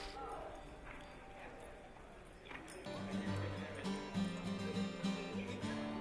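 A cutting horse's hooves shuffle and thud in dirt while it works Black Angus cattle in a pen, with steady clip-clop steps at moderate distance under background music.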